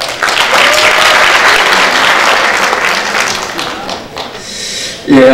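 Loud, dense applause from an audience at a rally of regional council members, sustained for about four seconds before fading, followed by a brief voice near the end.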